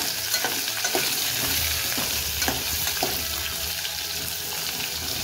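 Raw mango pieces and mustard seeds fry in hot oil while being stirred, a loud close sizzle with repeated scraping and tapping of the spoon against the pan.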